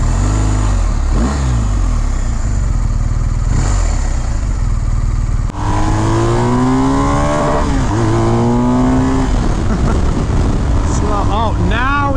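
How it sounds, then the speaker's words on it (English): An Audi R8 with a V10 engine passes on a mountain road, its engine note rising loud and close with revving and shifting over the steady drone of a motorcycle riding alongside. "Look, an R8 with a V10 in it. Those are fast cars."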